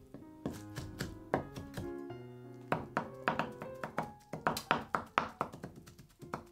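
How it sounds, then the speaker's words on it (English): A knife chops minced horse mackerel mixed with miso on a cutting board, giving irregular close thunks and taps that speed into a quicker rhythm toward the end, with no voices. "Then chop it with a knife."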